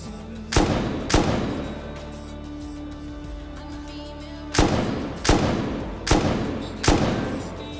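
Gunfire in the survival video game Rust cracks out in loud single shots, two close together, then a pause and four more in a steady spaced rhythm, with faint ambient hum underneath.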